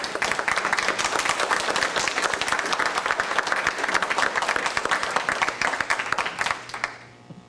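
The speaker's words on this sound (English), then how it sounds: "The one round of applause just wasn't enough, was it?" Sustained applause fills a town plan commission meeting room, many hands clapping densely and steadily for several seconds before tapering off at the end.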